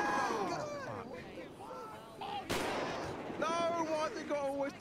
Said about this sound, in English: he shot him.